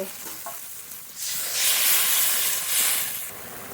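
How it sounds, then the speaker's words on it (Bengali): Rohu fish curry broth with spices bubbling in a pot after water is added: quiet at first, then a loud, hissing, sizzling rush that swells and stays steady, no talking. "জল ঝোল খুব ভালো করে ফুটিয়ে নেব"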